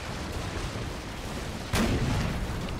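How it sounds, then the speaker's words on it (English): Cannon fire in the Napoleon Total War battle game, one sudden booming shot bursting out over a dense, rumbling background of battlefield noise, fairly loud and up close. "The 2 cannons here in the back are still firing."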